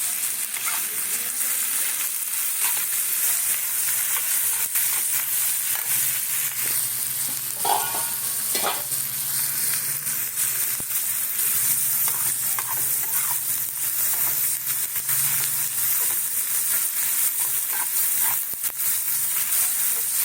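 Green chilli and ginger sauté in a pan with low oil, a steady sizzle running throughout with occasional stirring scrapes, close and fairly loud, no talk.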